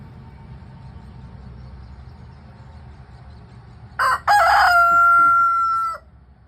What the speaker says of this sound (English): Whenever they find anything good, they make that sound and they share it with their girls.